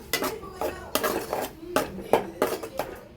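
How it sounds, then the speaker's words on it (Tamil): Ground paste being stirred in a cooking pot, a series of rhythmic metal-on-metal scrapes and clanks of a spoon against the pot, fairly close. "நல்லா கிளறி விடுங்க ஃப்ரெண்ட்ஸ்"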